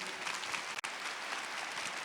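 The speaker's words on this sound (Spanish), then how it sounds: "Un aplauso para ellos porque son valientes" Applause from a church congregation for volunteers, dense steady clapping throughout with a brief dip near the middle, no speech over it.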